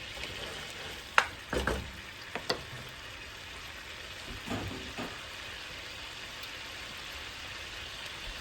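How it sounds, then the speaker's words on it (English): Butter melting in a hot pan, a soft continuous sizzle with a few sharp clicks and clatters of a pan or utensil near the start, close and moderately quiet, with no voices. "to this pan, we're going to add a couple more tablespoons of butter"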